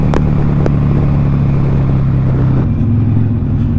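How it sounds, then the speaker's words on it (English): Motorcycle engine on a city street blips up as the rider downshifts, a loud, close rev rising and falling over a steady low drone of traffic. "That shit sounded mean as fuck when you downshifted."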